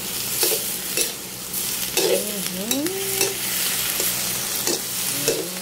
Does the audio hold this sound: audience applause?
no